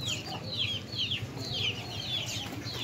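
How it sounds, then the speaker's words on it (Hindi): A hen clucks in a run of short, repeated calls at a cattle market in Islamabad. The calls sit fairly near and moderately loud over a low background hum of farm animals and market noise. "मुर्गी आई"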